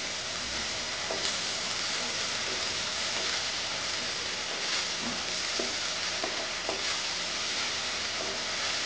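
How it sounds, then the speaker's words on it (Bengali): Washed Gobindobhog rice is stirred and fried in a pan for muri ghonto, producing a continuous dense sizzle with scattered faint utensil clicks throughout, close and even in level. "এবার আমি এটা ভালো করে নেড়ে নেব।"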